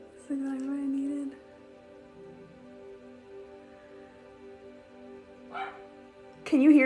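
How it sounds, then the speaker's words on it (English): A dog barks in a few separate bursts, a longer one early and a sharp one at the end, with a quiet hum between. "My dog, she's barking like crazy."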